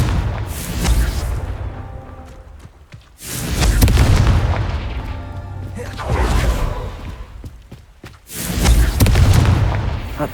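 Confringo explosive curse blasts in the Hogwarts Legacy video game: three loud booming bursts, each rising sharply and rumbling before fading, spaced a few seconds apart, with a voice briefly heard.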